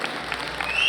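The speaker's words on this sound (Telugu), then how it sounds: "ఒకసారి టిప్ ఎంత ఉందో చప్పట్లు కొట్టండి" An audience at an anniversary gathering claps hands, a steady wash of many people clapping at once that grows slightly fuller toward the end, with no voices over it.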